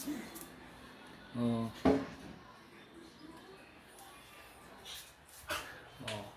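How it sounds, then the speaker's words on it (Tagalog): A dog gives a few short yips and whimpers in bursts, close by, with a person talking quietly in between. "Ito yung aso ko, si Whitey."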